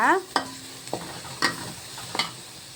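A spatula stirs turmeric powder and Trichy masala frying in a pan, giving four close, distinct scraping strokes spaced about half a second apart, each with a light sizzle.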